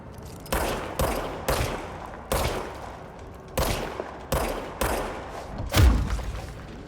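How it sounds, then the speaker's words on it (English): Gunfire in the video game Control: about eight separate bursts of shots at roughly one-second intervals, each a sharp crack with a short echoing tail, the last one heavier and booming. "Okay, so I can shoot."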